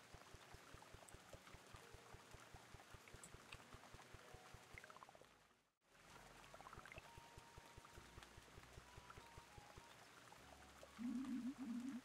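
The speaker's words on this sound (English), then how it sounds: "Hey, it's raining." Rain falls in the cozy video game Garden Story, a quiet, continuous patter with soft, evenly ticking drops, briefly cutting out midway before resuming.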